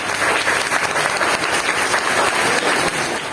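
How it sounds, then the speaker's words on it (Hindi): Sustained, dense applause from a crowd at a children's cultural program at an educational centre, loud and even throughout for the young performers. "जोरदार तालियां इन नन्हे मुन्ने बच्चों के लिए।"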